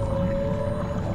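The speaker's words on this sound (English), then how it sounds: "That sounds like a whale." Underwater in the video game Assassin's Creed IV, a whale sends out a long, low, steady moaning call with a clear sustained tone, heard alone over a muffled rumbling ocean backdrop.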